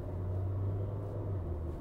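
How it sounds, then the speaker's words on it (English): A Changan CS75 SUV's petrol engine produces a steady, low, even rumble, heard close from inside the cabin with no talking. "And of course, it's a petrol engine."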